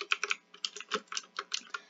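Someone types slowly on a computer keyboard during a Bed Wars game session, giving an uneven run of separate, close keystrokes with no talking.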